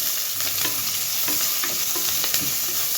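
Ginger and garlic fry in a pan with a dense, steady sizzle and crackle, while a utensil stirs with light scraping taps throughout, close and loud.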